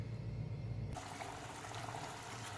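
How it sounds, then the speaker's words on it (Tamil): A pot of navadhaniya vadai curry bubbles and simmers steadily, a soft continuous liquid gurgle with a brief lower rumble at the start, no voices. "குழம்பு நல்லா கொதிச்சு வந்துட்டுருக்கு"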